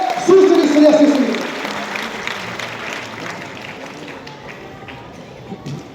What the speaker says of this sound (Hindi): जोर से ताली बजाकर बिहार की बेटी का स्वागत करिए